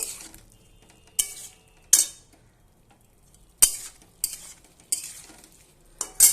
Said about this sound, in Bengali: এবার ভালোভাবে নেড়ে নেব।